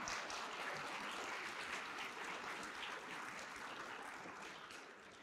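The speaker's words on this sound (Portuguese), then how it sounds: "Você pode aplaudir a Deus por isso?" A church congregation applauds in a sustained wash of clapping, fairly distant and soft, holding steady before easing slightly toward the end.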